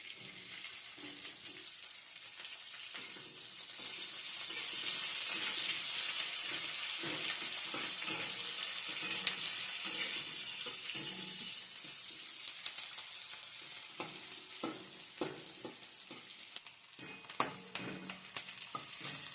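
Onion frying in a pan for khichdi: a continuous soft sizzle with scattered stirring scrapes and light taps, fairly faint and steady throughout, with no talking.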